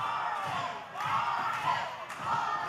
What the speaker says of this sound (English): the crowd here Hot Point Davis Arena getting behind Mr. Magnificent here